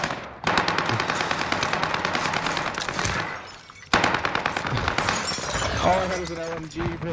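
Light machine gun fire in a Rebirth Island battle royale game comes as two long, loud continuous bursts with a brief gap between them, with players talking over the shooting.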